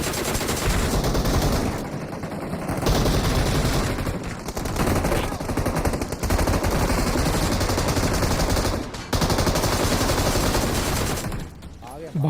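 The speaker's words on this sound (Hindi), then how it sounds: "अब बस सिर्फ गन की आवाज।" Sustained rapid gunfire from a BGMI battle-royale match, loud and continuous bursts of automatic weapons dense across the whole stretch, with only brief drops between volleys and no voices on top.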